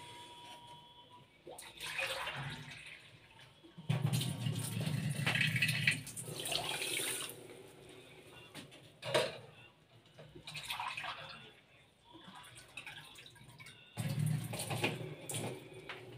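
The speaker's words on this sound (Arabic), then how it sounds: "وغنجيبو واحد كاس ونص ديال الماء" Water pours into a pot to make sugar syrup for Egyptian-style baklava, a steady splashing stream in bursts with pauses, close and moderately loud in a home kitchen.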